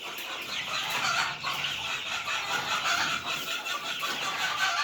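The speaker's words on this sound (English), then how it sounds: "these chickens are going crazy out here" A flock of chickens in a coop clucking and chattering continuously, a dense busy layer of overlapping bird calls with no pauses.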